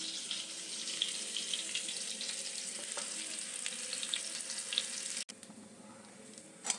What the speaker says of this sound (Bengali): নারকোল কোড়াটা দিয়ে খানিক্ষণ ভাজা